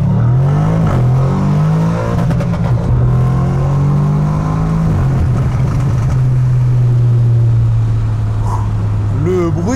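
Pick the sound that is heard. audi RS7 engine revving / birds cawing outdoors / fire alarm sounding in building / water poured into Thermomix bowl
audi RS7 engine revving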